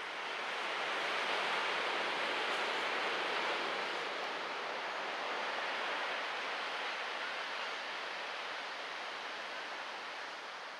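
Ocean surf at Oceanside Harbor beach gives a continuous, even broadband wash of breaking waves at moderate, fairly distant loudness, with no distinct individual crashes.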